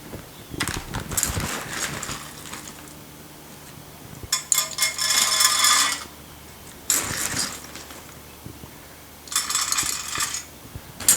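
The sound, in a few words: wood pellets scooped into a pellet pizza oven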